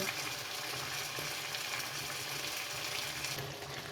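Beef frying with onions for a Bengali beef masala, a steady, fairly quiet bubbling sizzle with faint stirring throughout.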